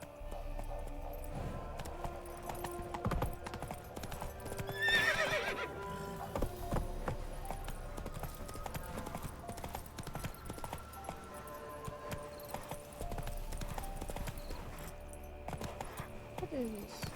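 Roach, Geralt's horse in The Witcher 3, trots with faint clip-clopping hooves and lets out a brief whinny early on, all quiet beneath game ambience and music.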